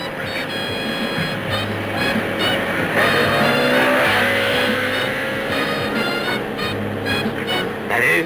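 A car pulls past on the road in a 1970s setting, a steady engine drone with rising revving and a brief swell as it passes, loud and close, under tense background music.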